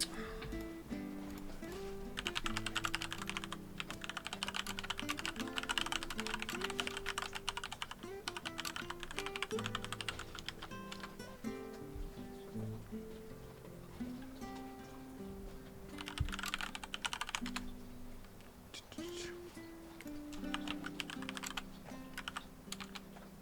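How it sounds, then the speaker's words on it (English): Fast, heavy typing clatters on a computer keyboard in bursts and runs of keystrokes, close and fairly quiet, with short pauses between flurries. "Angry typing."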